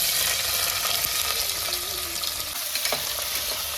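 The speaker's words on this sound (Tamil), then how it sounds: "இப்போ வெங்காயத்தை சேர்த்துருவோம்." Onions sizzle steadily in hot oil with cloves and cardamom for chicken biryani, a dense, even frying hiss with faint stirring scrapes and small pops throughout.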